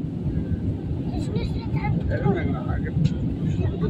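An airliner cruises high above the clouds, its engines giving a constant low, droning rumble heard from the cabin, with indistinct voices murmuring faintly underneath.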